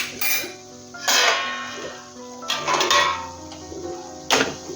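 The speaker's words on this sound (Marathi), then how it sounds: "आता आपण खेकडे टाकू" Sea crabs dropped into hot tempering in a pan for a Malvani-style crab curry, with several loud sizzling bursts and clinks of metal cookware spread across the stretch.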